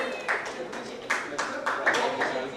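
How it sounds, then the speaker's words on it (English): An audience applauds Kajol at a Mighty Mom Award ceremony, scattered distinct claps in an uneven rhythm, fairly soft and slightly distant, spread across a couple of seconds. "A big round of applause, please."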